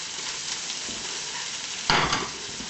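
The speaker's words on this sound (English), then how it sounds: "we're going to throw in some bacon" Bacon frying in melted butter in a pan gives a steady close hiss, with a brief louder flare of sizzling partway through as more goes in or gets stirred.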